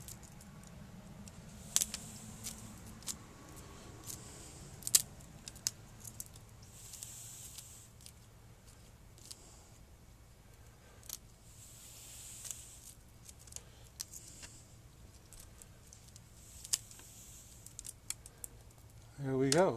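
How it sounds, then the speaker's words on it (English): Scissors or shears cut roots around the perimeter of a Premna shohin bonsai's root ball, giving faint, scattered clicks and snips at irregular intervals over a quiet, steady background. "Another pretty big root right there that needs to come off. Cut around the perimeter."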